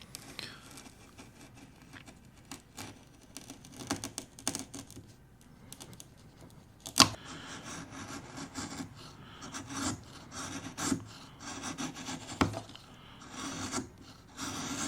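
A chisel in a honing guide is rubbed back and forth on a sharpening stone, giving rough, rasping strokes at a steady rhythm with a few sharper knocks, close and fairly quiet, with no voices.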